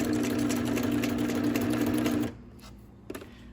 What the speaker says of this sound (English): And I'm using my zigzag and just putting just a little sewing on it.